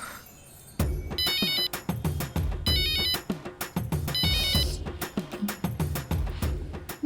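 A phone ringtone repeats in bursts of bright electronic tones over a steady beat, loud and close, with no voices, as a telephone rings during a call.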